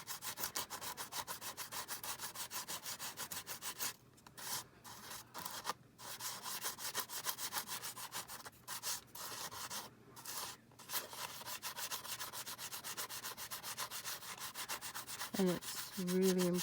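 Rapid, steady back-and-forth sanding of handmade journal pages, a close, dry rasping rhythm that continues almost unbroken, with a few short pauses midway and a faint squeak near the end.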